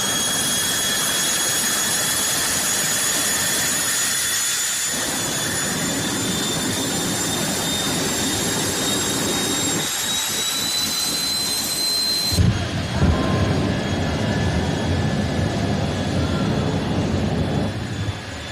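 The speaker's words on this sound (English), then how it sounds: "We have a jet truck and a jet dragster." A jet truck and a jet dragster roar loud and continuous at night drag races, a steady high whine over a heavy rushing blast that shifts abruptly partway through as the engines surge.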